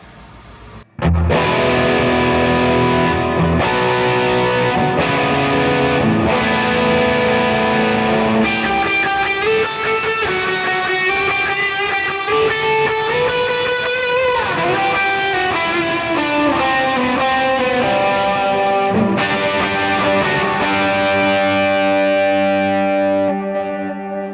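Heavily distorted electric guitar through an HX Stomp amp patch chugs through loud riffs and sustained chords after a brief quiet start, thick and saturated throughout.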